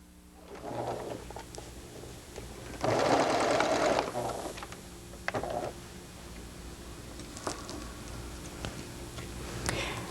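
A sewing machine bastes a lining onto a sweater, pausing at a corner to pivot, heard in short close bursts of stitching with quiet gaps and soft handling clicks between them.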